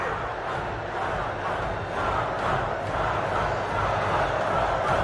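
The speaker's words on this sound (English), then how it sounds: "Crowd going wild." A crowd roars in the video game Mortal Kombat 11, a steady, loud wall of massed shouting and cheering that stays at a constant level throughout.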